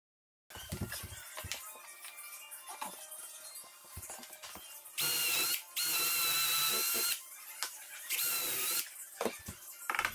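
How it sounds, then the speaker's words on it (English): Power drill boring a pilot hole through a wood block into the floor, with several loud high whirring runs of about a second each amid clunks and handling noises. "I drilled through that a pilot hole that goes down into the floor"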